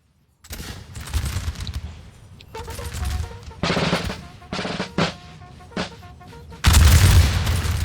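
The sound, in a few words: Russian infantry and artillery firing at Borodino, video game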